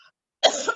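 After a brief moment of near silence comes a single short, sharp cough from a speaker, close and fairly loud.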